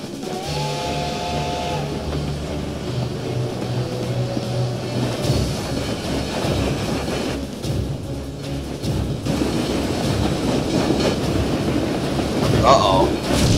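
Train rolling along in the video game Ninja Gaiden Black, a continuous rumbling clatter that swells louder toward the end, with someone talking over it.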